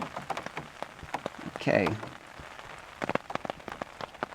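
Rain falls outside at a homestead, a soft steady patter with scattered drop ticks under a brief spoken word and a louder voice-like burst.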